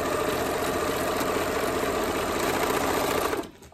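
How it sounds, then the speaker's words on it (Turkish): A Zetina 325 household overlock sewing machine runs its first stitch, a fast steady mechanical whirring buzz held at even loudness before stopping abruptly near the end. "motoruma basıyorum ve hayırlısıyla ilk dikişimi yapıyorum"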